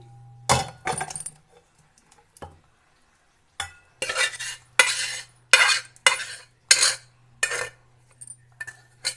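Stuffed brinjal curry (gutti vankaya) being scooped from a pan into another bowl, with a series of loud, close metallic scrapes and clinks of a spoon against cookware, separated by brief pauses.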